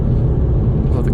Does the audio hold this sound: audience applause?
no